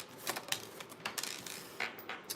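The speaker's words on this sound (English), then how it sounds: "I flipped the cards." Tarot cards flipped over during a reading, heard as a run of quick, crisp papery snaps and flicks close by, scattered irregularly across a couple of seconds with no talking.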